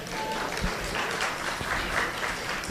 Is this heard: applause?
yes